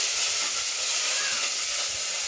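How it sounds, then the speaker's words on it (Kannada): Ginger, curry leaves, coriander leaves and chilli sizzle in hot oil as a tempering for curd rice, a loud, steady frying hiss close up with no voices. "ಇದು ಪೂರ್ತಿ ನಾವಿವಾಗ ಒಗ್ಗರಣೆಗೆ ಹಾಕೊಂಡ್ಬಿಡೋಣ."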